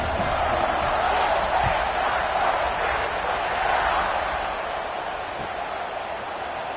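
A large football stadium crowd roars before a kickoff, a broad sustained cheer that fades slightly toward the end, with some voices mixed in.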